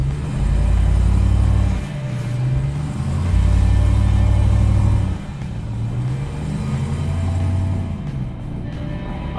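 A 2021 Ram TRX pickup reversing with a trailer in tow, its engine rumbling loud and low, swelling and easing in a few surges of throttle.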